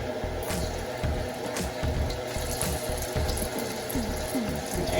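Spam and meat hit a hot skillet for Spam fried rice, setting off a loud, dense, crackling sizzle that runs continuously, with a few sharper pops and clanks of the pan.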